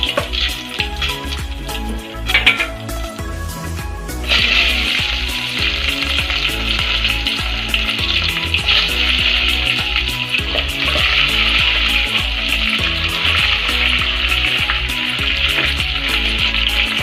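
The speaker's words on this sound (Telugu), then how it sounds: "ఉల్లిపాయలు వేగిపోయాయి." Chopped onions sizzle and crackle in hot oil for biryani, a loud, steady frying hiss that swells after a few seconds and keeps going, with occasional stirring clatter and no talking.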